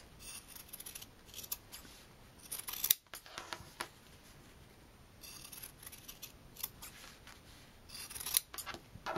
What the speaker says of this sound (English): I take my scissors, I'm going to cut around the circle that I created.